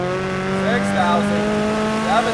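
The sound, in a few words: turbocharged Subaru BRZ engine revving toward 7,000 RPM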